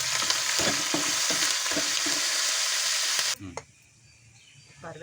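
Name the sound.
curry leaves frying in tempering oil, sizzling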